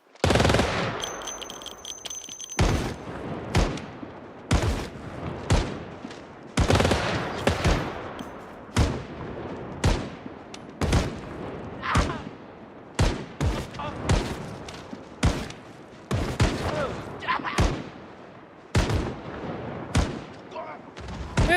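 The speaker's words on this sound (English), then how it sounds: "Any more cops around for me to shoot?" Gunfire at police in a video game: repeated loud bursts and single shots go on steadily, close and harsh, with short gaps between them and a voice talking over parts of it.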